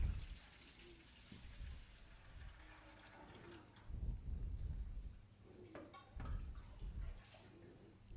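Water is poured off soaked glutinous sticky rice in a bowl during rinsing, giving close, uneven splashing bursts with quieter gaps between pours.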